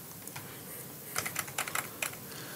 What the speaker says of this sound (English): I'm just going to type that out